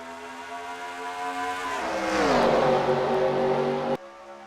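Race cars pulling away at the start of a race in a racing video game, set at Atlanta: a droning engine note that rises in pitch and loudness, then cuts off abruptly, heard alone with no talk.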